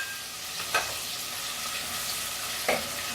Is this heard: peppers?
yes